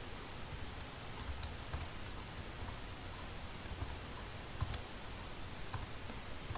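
Quiet, irregular clicks of keys being tapped on a computer keyboard while a short greeting is typed into a JavaScript console, scattered light taps over a low background hiss.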